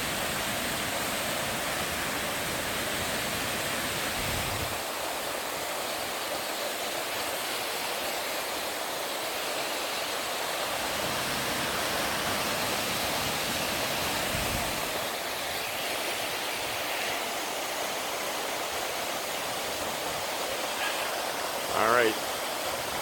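A strong waterfall on the La Cloche Silhouette trail in Killarney Provincial Park in September sends up a steady, full rushing roar of water that holds constant and loud throughout, with a faint brief sound near the end.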